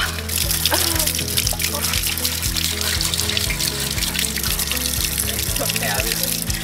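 Water splashes and pours in bursts over a busy outdoor street festival on the Portuguese Camino, with music and voices mixed in underneath.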